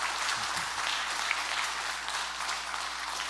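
Steady congregation applause at a church worship service fills the whole stretch, a dense even patter of many hands clapping at once with no voices on top.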